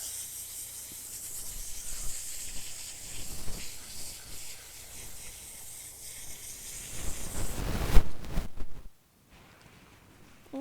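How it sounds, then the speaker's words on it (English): Steady hissing spray of water from a garden hose washing dirt off canna bulbs runs for several seconds, swelling into a louder splashing burst before cutting off abruptly. "now I am just taking a hose and I am spraying all of the dirt out of them"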